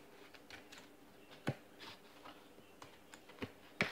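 Excess material trimmed off a homemade toy barbed wire platform for wrestling figures, a handful of small sharp snips and clicks spaced irregularly, close but faint against quiet room tone.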